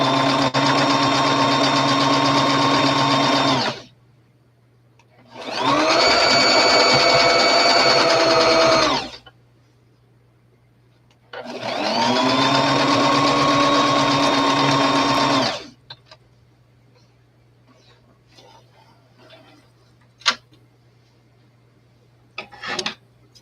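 A sewing machine runs three loud, steady bursts of stitching, each a few seconds long, while sewing a double stitch on a small doll dress. Short pauses fall between the bursts, and the machine trails off into quiet, faint handling sounds.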